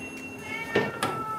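A house cat gives a couple of short meows, close and moderately loud, over a quiet indoor background while cauliflower pizza is being eaten.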